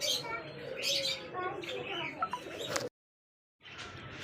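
King pigeons, including a chocolate-coloured bird, call with chirps and soft coos among a flock, fairly close and busy, while a person talks over them; the sound cuts out briefly near the end.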